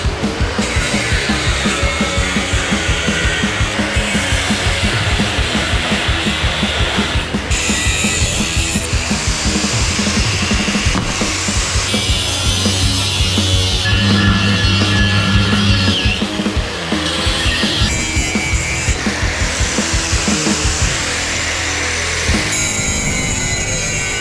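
Angle grinder cutting metal during a Sprinter van build, a loud continuous high whine broken by brief pauses and shifts in pitch as the disc bites, harsh and close for over twenty seconds.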